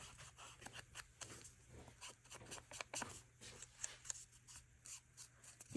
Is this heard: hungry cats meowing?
no